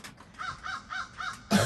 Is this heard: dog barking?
no